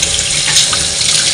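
Tap water runs steadily into a sink while chicken meat is washed, a loud, close, continuous splashing stream with no break.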